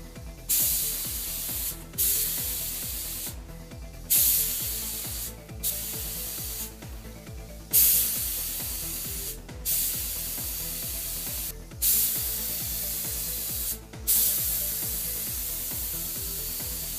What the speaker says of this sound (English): I just sprayed the clear coat.